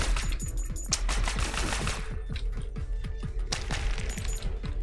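Rapid automatic gunfire from the video game Neon Abyss, a dense, fast stream of punchy shots running nearly nonstop at a steady, loud level with brief bursts layered on top.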